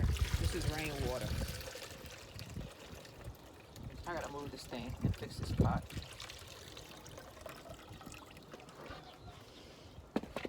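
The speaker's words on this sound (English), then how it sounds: "I'm gonna take this aloe vera plant and pour extra water in here. This is rainwater." Rainwater is poured and trickles into a stackable self-watering planter tower beside an aloe vera plant, close splashing and dribbling in short bursts while a person talks over it.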